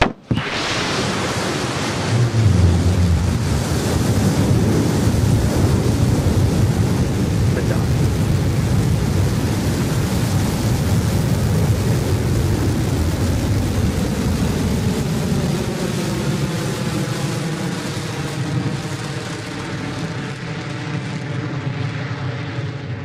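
Blue Origin New Shepard rocket engines roar through liftoff in a sustained, loud, broadband rumble that holds steady and slowly fades as the vehicle climbs away.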